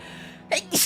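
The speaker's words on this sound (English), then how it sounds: "I have to sneeze." A single sharp sneeze from a person, a brief inhaled build-up followed by a loud explosive burst, close to the microphone with a quiet background.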